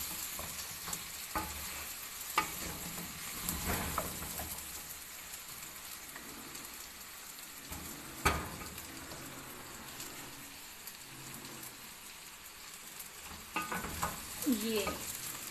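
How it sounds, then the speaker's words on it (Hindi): Potatoes and carrots fry in a hot pan for restaurant-style Chinese pulao, a steady close sizzle broken by occasional scraping stirs of a spoon. "आलू को थोड़ी देर भूनने के बाद अब इसमें गाजर शामिल करेंगे।"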